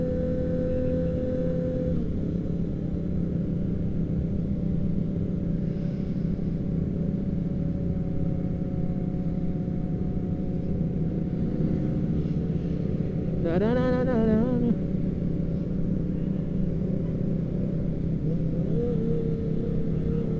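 Car engine revving, a steady low rumble holding through the whole stretch with a brief rising rev burst midway, loud and close with no talk.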